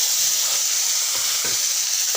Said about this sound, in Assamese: ধুনীয়াকৈ ভাজি ইমান ধুনীয়া চেণ্ট